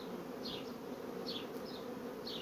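A steady, close drone of many honeybees buzzing at a hive box, with a few higher whines passing by now and then.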